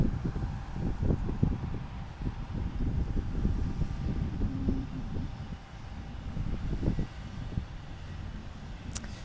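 A SkyWest airliner departing runway 28 left at Portland International Airport gives a steady low jet rumble that holds throughout, distant and broad, with some wind noise and no talk.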